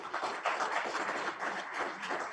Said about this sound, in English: So a round of applause for Mr. Regnier.